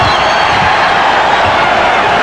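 A basketball arena crowd reacts during a 1993 NBA Eastern Conference Finals game with the New York Knicks, a dense, steady roar of many voices filling the space throughout.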